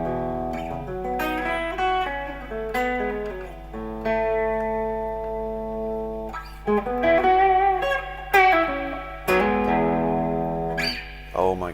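Vintage 1960s electric guitar played in a relaxed run of chords and single notes with a clean, warm tone, moderately loud over a steady low hum.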